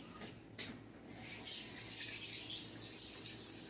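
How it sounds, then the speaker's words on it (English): Hands are rinsed under a running tap while making pecan log rolls and divinity candy: a soft, steady stream of water, faint and continuous, with no talking. "I've got to rinse my hands off."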